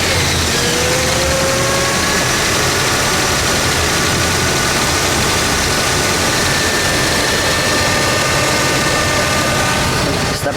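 A 1965 Buick Wildcat with a 401 V8 idling, a dense, loud low rumble running steadily throughout with a faint whine on top and no clear start.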